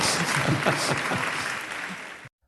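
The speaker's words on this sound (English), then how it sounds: "A lot of people clapping for something that sounds awful like eugenics." Studio audience clapping together at a steady, fairly loud level, a dense wash of hand claps that cuts off abruptly near the end.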